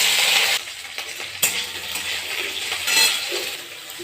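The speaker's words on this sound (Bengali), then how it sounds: "এবার ভেন্ডিগুলো ভেজে নিচ্ছি" Okra fries in hot oil in a wok, a close, crackling sizzle broken by metallic clinks and scrapes from a spatula against the pan.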